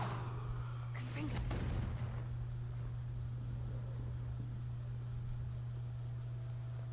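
Confringo blasting spell in a Harry Potter video game, heard as a single sharp burst and crackling roar lasting about a second near the start, then fading into steady low hum and background noise.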